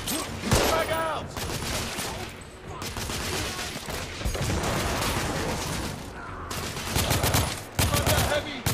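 Rapid gunfire from the video game The Order: 1886 rattles in dense bursts of shots, loud and sustained across the scene, with game voices calling out between the volleys.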